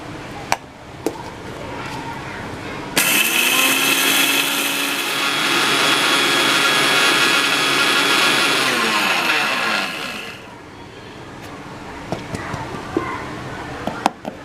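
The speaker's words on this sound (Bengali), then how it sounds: "মিক্সি বোল্ডে আমি মশলাগুলো দিয়ে দেব। মশলাগুলো আমি একসঙ্গে ব্লেন্ড করে নেব।" An electric mixer grinder blends spices for aloo paratha, its loud, steady whirring motor starting abruptly, running for about seven seconds and then cutting off, with faint clicks before and after.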